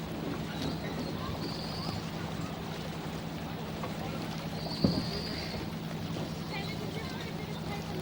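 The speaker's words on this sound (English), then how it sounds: "The boats start heading out to the start line for the opening day regatta." Boats head out toward the start line of an opening-day club regatta in a gentle breeze: a steady low motor hum under constant wind noise, with a single brief knock midway.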